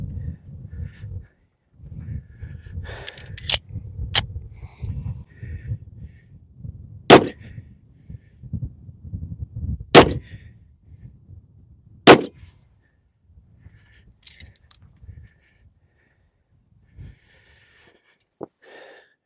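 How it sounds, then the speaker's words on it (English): A Dan Wesson Heirloom pistol in 38 Super fires 130-grain rounds at seven yards: several sharp, loud shots spaced a few seconds apart, with low handling rumble and brief movement noise between them. "I'm gonna go back 7 yards and we're gonna see how she shoots."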